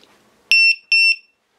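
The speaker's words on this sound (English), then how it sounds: "And you hear that beep." A small electronic drone battery voltage tester with low-voltage warning emits two sharp, loud double beeps in quick succession, high-pitched and clean, then silence.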